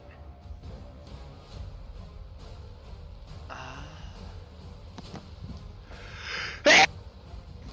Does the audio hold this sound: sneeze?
yes